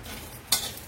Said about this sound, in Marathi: आमची मम्मी राजगिरा भाजून घेऊ राहिल्या